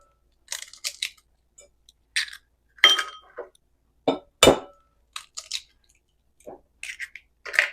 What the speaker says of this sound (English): So we're going to add 4 eggs.